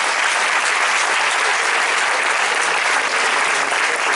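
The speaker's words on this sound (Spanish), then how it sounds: "Un aplauso para el amigo." Sustained, dense audience applause fills the room at a district creative writing gathering, steady and fairly loud throughout with no voices standing out.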